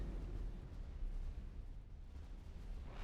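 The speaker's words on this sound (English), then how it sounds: "I'm gonna lose the ship. Explosion. There it goes." A ship explodes in the space game X4 during a failed boarding attempt, a low rumbling boom that rolls on for a few seconds, quiet and muffled with no talk over it.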